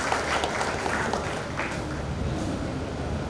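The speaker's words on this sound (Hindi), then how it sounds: "सभी एक बार जोरदार तालियां इनके लिए बजाइए।" Audience applause at a Rotary club investiture ceremony, a steady wash of clapping from a seated crowd, moderately loud and continuous for a few seconds.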